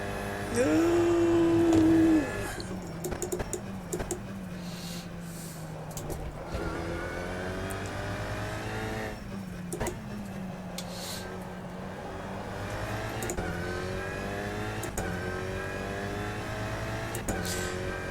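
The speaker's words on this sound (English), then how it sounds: "And it's certainly not the nicest sounding engine in the world." A race car engine in the rFactor 2 racing video game drones steadily for the whole stretch, rising and falling in pitch through gear changes, with a brief louder burst near the start.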